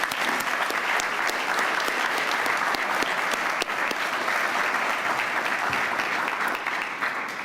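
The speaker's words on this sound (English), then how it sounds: "Let's give them a big round of applause." Continuous applause from an audience at an annual meeting dinner near Smith Mountain Lake, Virginia, dense close clapping sustained throughout with no talk.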